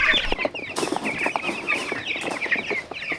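Chickens cluck and squawk close by as a flock is herded out to fresh pasture on a regenerative farm, with overlapping busy calls and rustling movement.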